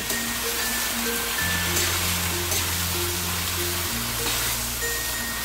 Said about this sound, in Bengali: চাল ডাল ভালো করে সব কিছুর সাথে ভেজে নেব